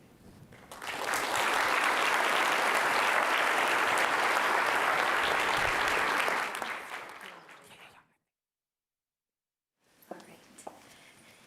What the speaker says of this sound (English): Let's give Maya one more round of applause.